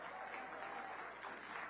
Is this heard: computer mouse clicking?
no